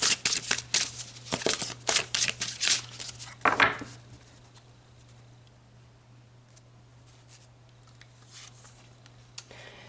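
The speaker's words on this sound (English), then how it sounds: "So let's pull some more cards." Oracle cards are shuffled close up for about four seconds in a quick run of papery riffles and slaps, then everything falls to near silence with a low steady hum.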